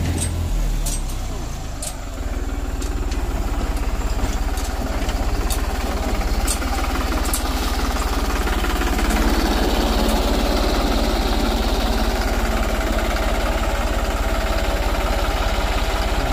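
A New Holland 3630 Plus 4x4 tractor pulling a sugarcane planter on a farm field drones continuously and loudly, with a steady low engine rumble and some faint clicks over it.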